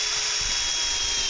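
Power drill driving a screw through a P-shaped plastic dock bumper into composite decking, a steady high whine running close and loud throughout with low rumbling underneath.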